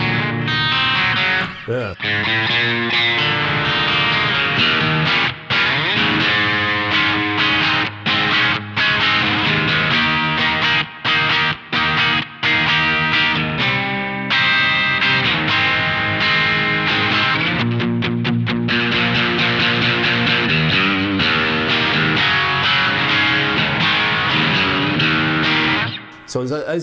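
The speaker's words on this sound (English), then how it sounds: "like fluid, bitey sounding distortion, like punk rocky kind of thing." An electric guitar played through a T-Rex Dr Swamp distortion pedal rings out loud and continuous in chords and riffs with a gritty, biting, punk-rock edge, broken by brief pauses and a short spoken word.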